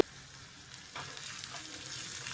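Cumin seeds and chopped green chillies fry in peanut oil with a soft sizzle that grows louder as the chillies go in. A few light stirring taps follow, and no one speaks.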